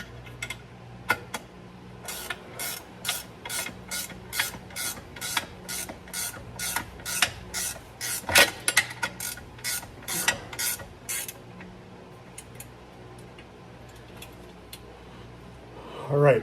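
A ratchet wrench clicks in rapid, steady bursts while snugging down bolts on a front differential cover and skid plate, close and crisp, pausing between runs with a few spoken words.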